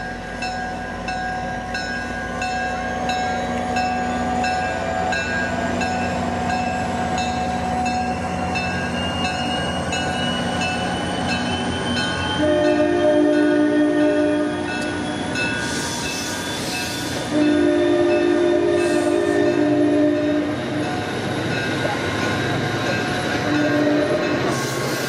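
A train rumbles past in the rain with a steady mechanical drone, and its horn blasts twice, long and loud, over the rolling wheels.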